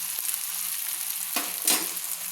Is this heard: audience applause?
no